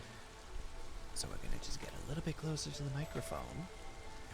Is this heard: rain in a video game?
yes